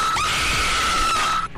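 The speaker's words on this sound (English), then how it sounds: "those kind of redemptions that make a really loud scream" A loud, sustained scream plays as a sound effect triggered by a redemption on a live stream. It rings alone for about a second and a half and then cuts off sharply.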